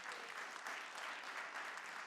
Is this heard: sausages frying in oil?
no